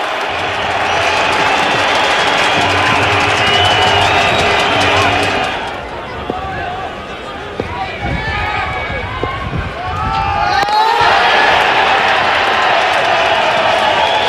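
Joyous Indian supporters cheer at a cricket match after a big hit, a loud roar of crowd noise and applause that dips midway under commentary, then swells again.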